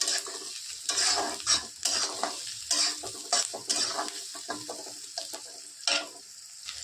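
Onion frying in a pan until reddish, a steady close sizzle broken by repeated scraping stirs and light clinks of a utensil against the pan, with no talk.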